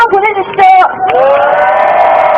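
A crowd at a candlelight rally in Gwanghwamun lets out a loud, sustained collective shout, rising after a few brief voiced bursts and holding steady to the end.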